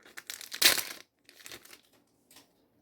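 The plastic wrapper of a Pokémon booster pack is torn open close up: a sharp, loud rip, followed by a couple of softer crinkles as the foil is pulled apart.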